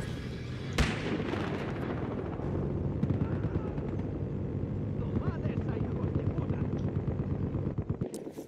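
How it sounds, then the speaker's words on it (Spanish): A helicopter in the multiplayer shooter Battlefield Hardline on PS3 makes a continuous dense rotor rumble, joined by gunfire and explosive bursts, with a sharp crack near the start and voices mixed into the clamor. "¡Cuidado, helicóptero!"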